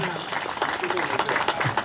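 An audience at a mini rally awards ceremony in Kupiškis applauds in steady clapping, with a voice speaking over it.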